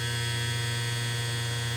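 A Mirka 3-inch cordless AROP-B polisher runs at a steady high speed, giving a constant, even motor hum with no change in pitch or level for the whole stretch.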